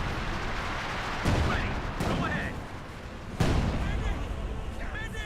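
Artillery siege barrage in Company of Heroes 2, a few heavy booming impacts spaced apart over continuous battle rumble, with a voice talking over it.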